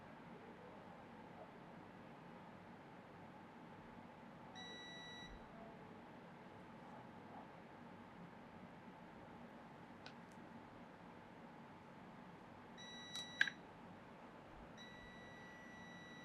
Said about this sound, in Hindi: नॉर्मल ब्लैक कॉइल बीप देती है।